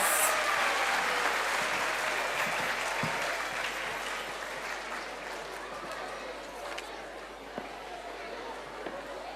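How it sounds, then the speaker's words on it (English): Audience applause at a school annual day after a children's foundational-level dance performance, broad and sustained clapping from a large crowd that stays steady throughout and tapers slightly toward the end. "Give them a huge round of applause."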